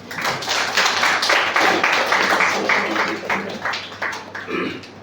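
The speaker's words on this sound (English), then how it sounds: "So she did a big round of applause." Audience members at a Toastmasters club meeting clap together in a dense, close round of applause lasting several seconds before it tapers off, with a voice briefly heard near the end.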